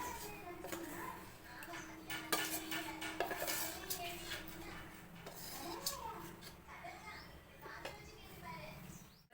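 Melted chocolate stirred into beaten eggs for brownie batter, with busy clinking and scraping of a utensil against a bowl, close and continuous, while people talk in the background.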